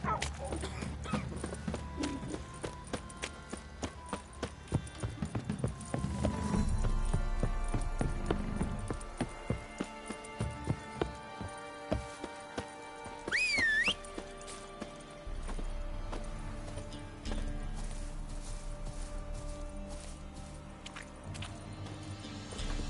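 Hooves clip-clop rhythmically as a horse gallops in the video game Elden Ring, over a bed of game music and ambience, with a brief whinny-like squeal midway.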